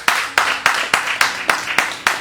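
Rhythmic unison clapping from a church congregation, about eight sharp, evenly spaced claps in a steady beat, close and clear with no talking.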